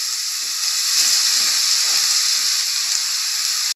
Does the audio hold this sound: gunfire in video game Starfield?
no